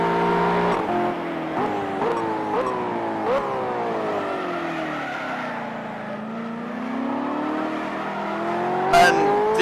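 Race car engine from the PC racing game Simraceway, loud and close throughout, with rising and falling revs through repeated gear changes, brief tyre squeal and a sharp burst near the end, no talk.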